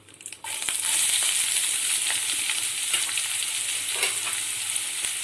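Onions sizzle and fry steadily in hot oil with curry leaves while prawn gravy is being cooked, a loud continuous crackle that kicks in suddenly after a brief quieter start and carries on with small pops and stirring scrapes.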